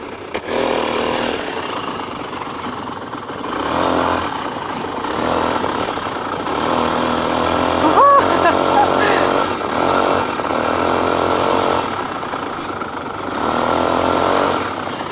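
A small battery sprayer vehicle's engine drones steadily while reversing and turning on farm ground, a mid-pitched motor hum that swells and eases, with someone talking over it.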